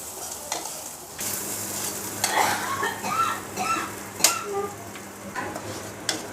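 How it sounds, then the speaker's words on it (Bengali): Onion and garlic fry in oil that was just used to fry dried red chillies for a bharta, giving a soft, steady sizzle. Occasional stirring clicks and scrapes of a utensil against the pan sound over it. "এই তেলেই পেঁয়াজ আর রসুন আমি ভেজে নেব।"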